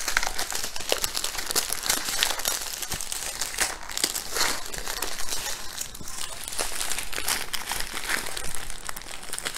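Plastic packs of diamond art drills crinkling and crackling as they are folded zigzag, a continuous close rustle with sharper crunches throughout.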